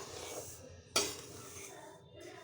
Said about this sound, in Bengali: প্রথমে সুজিটাকে ভালো করে ভেজে নেব।